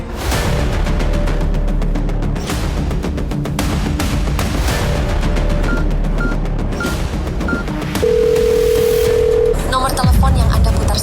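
A steady telephone call tone plays over a busy mix of other sound, followed near the end by a held electronic tone before a recorded voice cuts in.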